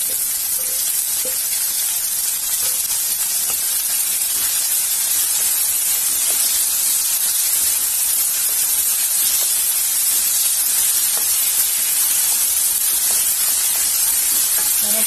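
Tomatoes hit frying onions in a pan, giving a steady, loud sizzle and hiss that holds evenly throughout without talk.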